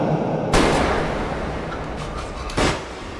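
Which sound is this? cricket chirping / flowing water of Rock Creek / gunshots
gunshots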